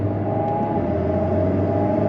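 Inside a 292-horsepower Alpine A110 S on the move, a thin, steady turbo whistle rides over a continuous engine rumble, close and fairly loud, with no talking.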